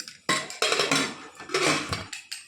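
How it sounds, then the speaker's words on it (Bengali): Metal lid of a pressure cooker being fitted and locked in a home kitchen, a series of loud close clanks and scrapes in irregular bursts with no talk. "এখন হচ্ছে ঢাকনাটা আটকে দিই।"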